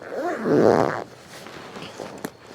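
An Ozark Trail survival kit case is folded up and closed, producing a loud zipper-like rasp in the first second, then quieter rustling and a brief sharp click near the end.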